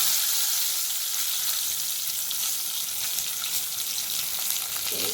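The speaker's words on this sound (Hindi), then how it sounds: "तापरे जीरा पकांतु, तापरे तेजपत्र पकांतु" Cumin seeds and bay leaf frying in hot oil for a mushroom curry, giving a steady, close, continuous sizzle with fine crackle throughout and no talking.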